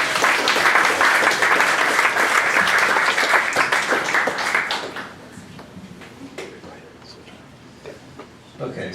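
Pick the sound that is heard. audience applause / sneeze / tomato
audience applause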